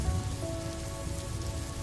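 Steady rain falls on a surface, a dense, even hiss with soft low patter that stays constant and fairly close throughout, with no voices.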